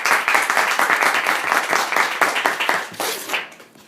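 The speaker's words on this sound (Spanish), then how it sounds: "Pues un aplauso." A seated audience gives a short burst of dense, steady clapping that fades out after a few seconds.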